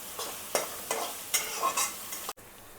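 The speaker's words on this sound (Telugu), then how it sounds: "ఉల్లిపాయ గోల్డ్ కలర్ వచ్చేంత వరకు వేగాలి." Onions sizzle and fry in a pan until golden, with a utensil stirring them in several short scraping bursts over a steady low hiss before a brief cutoff.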